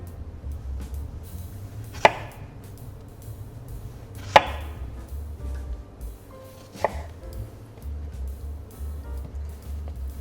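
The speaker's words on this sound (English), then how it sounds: "Let's slice our strawberries and get these all ready to go for when our mousseline is done chilling." Knife slicing strawberries on a cutting board for a mille-feuille, three distinct sharp chops spaced a couple of seconds apart over a steady low hum of room noise.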